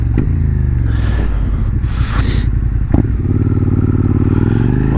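A 2019 Suzuki SV650X motorcycle ridden at steady speed, its engine droning close and loud with wind buffeting and a couple of short clatters over the continuous hum.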